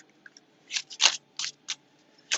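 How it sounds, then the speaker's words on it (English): A deck of playing cards is shuffled in a few quick riffling bursts, close and fairly quiet, with short gaps between each flurry. "So let me just get you a couple good shuffles here."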